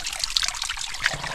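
A thin trickle of water runs steadily at a small trail water source along the Pacific Crest Trail, close and soft, with no voices.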